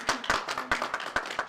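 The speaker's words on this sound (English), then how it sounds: "give her a big round of applause." Scattered hand claps from a small audience at the 2021 Miss Navajo Nation Pageant, a handful of sharp, uneven claps over about a second and a half, moderately faint and thin rather than a full ovation.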